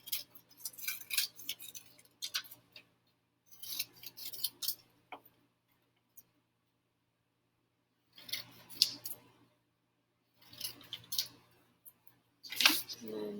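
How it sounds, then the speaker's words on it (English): Scissors cut around paper foldables for a composition notebook in several separate bursts of crisp snipping and paper rustle, close and fairly quiet, with silent pauses between them. "I'm going to cut around both of these right now just to make it a little easier on myself"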